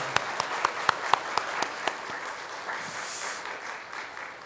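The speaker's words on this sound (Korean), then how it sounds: "박수하겠습니다." A church congregation at a Sunday morning service applauds a newcomer, opening with a string of distinct single claps that merge into soft, fairly quiet sustained applause.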